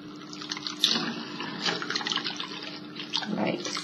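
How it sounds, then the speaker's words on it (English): Running tap water splashes through clip-in hair extensions as conditioner is rinsed out, a close, steady patter in a sink with uneven bursts of splashing as the hair is moved under the stream. "So I'm just rinsing it out."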